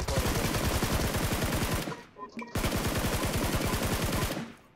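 Rapid automatic gunfire from the mobile battle royale game BGMI (PUBG Mobile), two long sustained bursts of dense, loud shots separated by a brief pause with a few scattered clicks.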